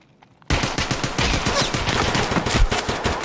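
Sustained automatic gunfire in Escape from Tarkov erupts suddenly after a brief quiet moment, a loud, dense burst of rapid shots continuing to the end.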